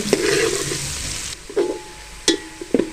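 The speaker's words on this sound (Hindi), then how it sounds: "इसकी बुनाई करेंगे लहसुन अदरक के साथ।" Garlic ginger paste frying in a pan, a soft sizzle at first and then quieter, broken by a few sharp stirring scrapes.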